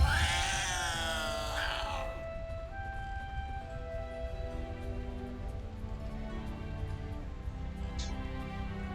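A long, drawn-out cat meow and caterwaul in the Baldur's Gate 3 video game, loud at first and then fading into a steady game ambience, with no talking.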